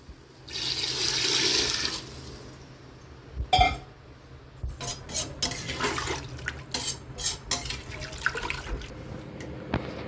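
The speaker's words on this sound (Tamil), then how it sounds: "இதில் 6 டம்ளர் தண்ணி ஊற்றிக்கலாம்." Water is poured into a cooking pot for chicken biryani rice, a splashing rush lasting about a second, followed by clinks of pots and utensils and further scattered kitchen clatter.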